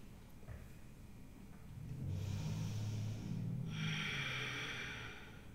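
Slow, audible breaths taken while a person holds a yoga pose for the hip flexors, drawn in and let out through the nose, close and soft with a faint steady hum behind them.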